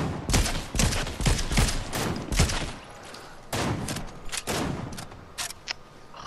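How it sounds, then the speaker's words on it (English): Rapid bursts of gunfire in the Fortnite Chapter 4 Zero Build duos mode, a sequence of clustered shots and volleys at moderate distance with short pauses between bursts, no talking. "There's people shooting behind us too, I think."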